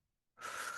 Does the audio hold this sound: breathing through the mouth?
yes